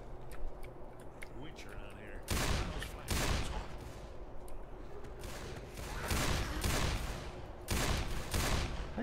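Handgun fire in Left 4 Dead 2, a handful of sharp, loud shots spaced irregularly across the clip, each a broad burst standing out over a steady game-ambience bed.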